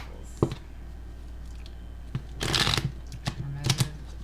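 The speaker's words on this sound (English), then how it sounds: "I need to do a few more shuffles." Tarot cards shuffled by hand, a close riffling burst in the middle and a few shorter flicks and taps around it, over quiet room tone.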